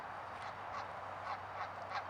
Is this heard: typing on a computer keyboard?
no